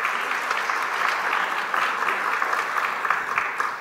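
An audience claps together in warm, sustained applause, a dense even patter of hands that holds steady for a few seconds with no voices.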